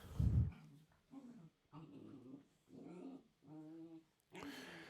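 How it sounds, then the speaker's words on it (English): Dogs in a house squabble with a sharp burst, then a string of short whining growls and grumbling yips in separate bouts, moderately close, with no voices over them. "My dogs are over here fighting and arguing."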